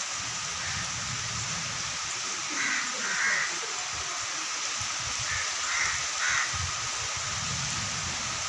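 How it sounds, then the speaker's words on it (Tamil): Crows caw in short bursts of two or three calls from a moderate distance, heard over steady, heavy rain hissing on surfaces during a cool, windy downpour. "பறவைகள்லாம் மழையில் நனைஞ்சி ஒரே சத்தம் போட்டுட்ருக்கு."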